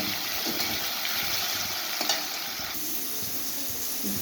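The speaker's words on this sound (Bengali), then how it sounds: "আলুটা একটু খুব লাল লাল করে ভাজার দরকার নেই সামান্য একটু ভাজা ভাজা হয়ে যাচ্ছে" Potatoes frying lightly in a pan for a bhindi-aloo dish give a soft, continuous sizzle, with occasional scrapes and taps from stirring, heard close and fairly quiet with no voices.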